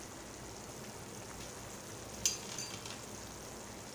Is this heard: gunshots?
no